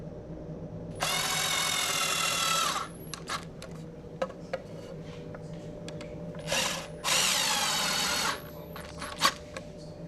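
A power drill drives screws into a wooden shelf in two loud whirring runs of about two seconds each, with small clicks, taps and handling noises between them, heard close up.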